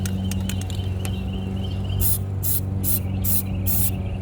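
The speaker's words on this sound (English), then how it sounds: "now I'm gonna start spraying the plastic dip." Plasti Dip is sprayed from an aerosol can onto car tires in five short, evenly spaced hissing bursts, close and fairly loud over a low background hum, following a few faint clicks.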